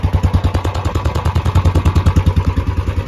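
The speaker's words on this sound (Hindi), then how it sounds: "बाइक को बाहर निकाल चुके हैं और कितनी प्यारी साउंड कर रही है," A motorcycle engine running without an exhaust, loud and close, idling with a rapid, even, throbbing chug and metallic clatter, with no voices.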